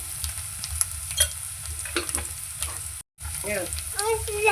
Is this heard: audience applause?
no